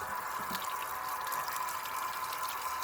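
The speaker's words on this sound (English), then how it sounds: "I took possession of this, tried to use it, and the pump is leaking." Water leaks from the corroded pump of a Troy-Bilt GCV 160 pressure washer, a faint steady hiss of running water with occasional soft drips.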